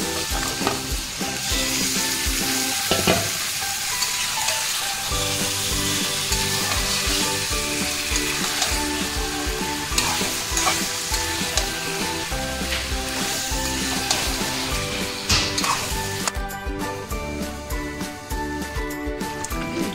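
Yogurt-marinated chicken frying in a wok for a homestyle kosha curry, a loud continuous sizzle with frequent stirring scrapes and clatter running throughout, nobody speaking.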